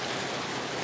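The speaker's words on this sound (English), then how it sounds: "It's raining" Heavy rain pours down steadily, a dense, continuous hiss of water hitting surfaces, loud and close with no pauses or voices.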